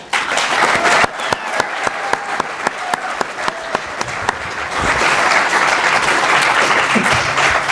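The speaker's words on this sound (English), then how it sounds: "Let's give them a round of applause one more time." Audience applause for mayoral and city council candidates at the close of a 2017 Pleasant Grove debate, opening with sharp separate claps that swell into sustained, even clapping from a sizeable crowd, no talking.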